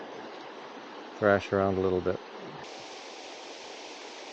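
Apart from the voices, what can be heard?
waterfall near Lake Superior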